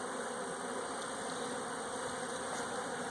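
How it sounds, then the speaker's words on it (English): Honey bees buzz around an open hive during a pre-winter colony check, a steady, low, continuous hum with no pauses and no voices. "I can shake the bees off if I need to"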